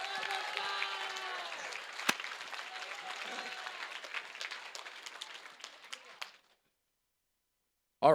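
A crowd at an FTC robotics league tournament in Ottumwa, Iowa, claps in sustained applause for about six seconds, dense and even with a few sharper claps, then falls silent.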